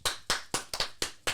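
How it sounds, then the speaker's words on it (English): Hands clap in a quick, even rhythm, about six sharp claps close to the microphone with no other sound around them. "Let's clap it up."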